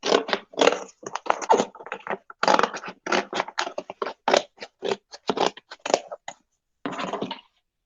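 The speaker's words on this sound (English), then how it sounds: "So you're going to cut off these side flaps here." Scissors or a blade cut through the side flaps of a cardboard shoe box in a close, steady series of short rasping snips and scrapes, then fall quiet near the end.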